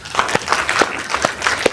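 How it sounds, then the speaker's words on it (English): Audience members at a school board meeting clap for a principal in a thin, scattered patter of individual claps that rise and fall unevenly across a short burst. "Clap it up for Ms. Dunham."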